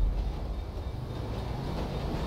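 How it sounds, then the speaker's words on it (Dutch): A train rolls past in the Grand Theft Auto V video game, a steady low rumble with rail noise filling the stretch at an even level, no voices over it. "Shit, een trein."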